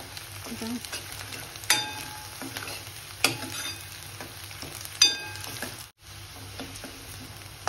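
Chopped onions sizzle steadily in hot oil in a pan as they turn golden brown for a prawn masala, with a few sharp scrapes and clinks of the stirring spoon over the constant frying hiss.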